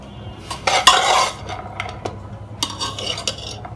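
Dry roasted chana dal stirred in a pan, giving a crisp, scraping rattle with a louder burst near the start and lighter intermittent clinks afterward, close and alone.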